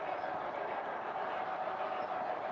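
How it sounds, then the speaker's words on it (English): A train passes with a steady, even rumble and a faint mid-pitched drone, heard at a modest distance with no clear wheel clicks and no one talking. "Train coming"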